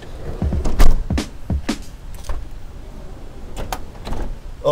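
A minivan's sliding side door is pushed open, giving a few smooth rolling and sliding passes with some light clunks, fairly close and loud, with no talking over it.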